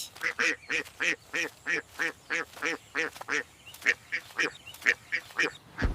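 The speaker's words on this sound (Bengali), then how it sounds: "দেখো হাঁস" Rapid, loud quacks repeat in a steady run, about a dozen harsh nasal calls close by with no talking.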